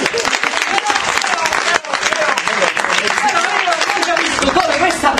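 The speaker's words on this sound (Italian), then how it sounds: "Un applauso!" A theatre audience at an improvisational comedy show bursts into loud, dense applause that fills the room continuously, with voices mixed in.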